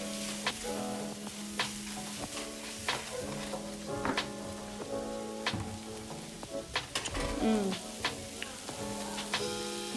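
Vegetables sizzling in a hot pan while being stirred, a steady crackling fry punctuated by sharp ticks and scrapes of the utensil, with a louder clatter of stirring near the end.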